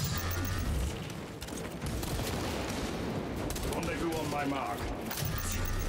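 Dense gunfire from a Space Marines 2 firefight, near and loud, rattling in steady bursts through the whole stretch with other game noise mixed in and voices talking over it.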